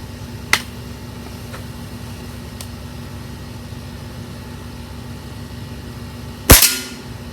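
A single sharp crack from a Diana RWS 48 .22 air rifle, loud and close, comes near the end after a faint earlier click, over a low steady hum.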